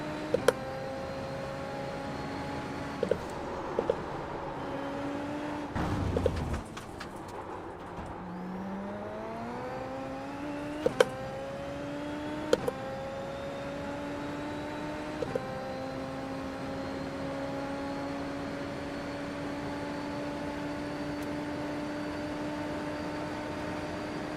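Race car engine in the iRacing sim, a steady droning whine that repeatedly drops and climbs as gears shift down and up, with brief clicks of gear changes, continuous and close.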